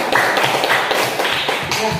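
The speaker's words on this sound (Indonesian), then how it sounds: "Tepuk tangan dong." Classmates clap their hands in a classroom after a group presentation, a dense patter of close, steady claps running throughout, with faint voices underneath.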